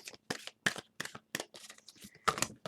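Tarot cards being shuffled by hand in a series of short, crisp riffling bursts with brief pauses between them, close and fairly quiet with no talking.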